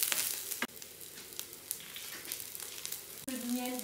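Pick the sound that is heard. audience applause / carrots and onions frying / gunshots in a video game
carrots and onions frying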